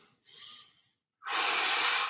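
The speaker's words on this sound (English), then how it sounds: "In through the nose, breathing." A person draws a long, steady inhale through the nose during a gentle knee stretch, a soft airy hiss close to the mic lasting about a second, preceded by a shorter, fainter breath sound.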